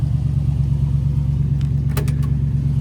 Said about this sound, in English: New exhaust, got a great sound to it.